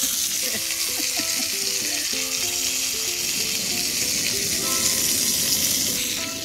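Hamburger patties fry in a small pan at a state park campsite, giving a loud, steady, close sizzle that runs unbroken, with a voice murmuring faintly beneath.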